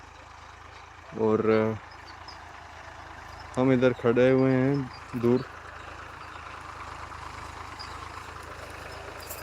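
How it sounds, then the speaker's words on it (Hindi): A tractor works far off in a large orange orchard, a faint low engine drone running steadily beneath a few short bursts of nearby talking. "उधर ट्रैक्टर चला रहे हैं पापा"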